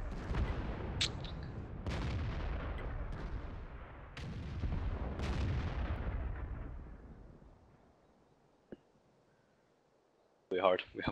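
Artillery fire in World of Tanks, the game's Arty support guns, booms several times in a row with heavy rumbling low-end blasts and long decaying tails, fading into near quiet before a final sharp burst.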